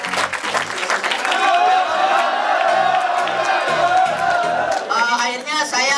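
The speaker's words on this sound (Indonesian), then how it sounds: "Tepuk tangan dulu untuk Patung." A seminar audience breaks into sustained applause and cheering for an alumnus, dense clapping with whoops throughout, tapering near the end while a voice carries over it.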